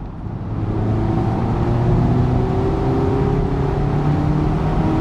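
A Mazda MX-5 engine revs hard after a downshift, a loud steady rising drone that holds strongly from start to finish, heard from the cabin with no talk over it.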